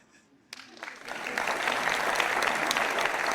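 A student audience in a comedy-style lecture hall breaks into applause after a quiet start, the clapping swelling within a second and holding steady and dense to the end.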